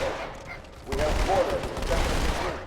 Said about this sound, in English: Running around with dual SMGs was always one of my favorite things to do in this game.